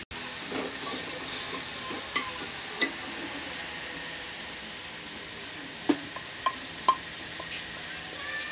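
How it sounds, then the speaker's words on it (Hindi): Steady low sizzling of chicken frying in ghee, with occasional soft clinks and stirring taps over the bubbling hiss. "घी में जो है ना इसे तड़का लगाया है।"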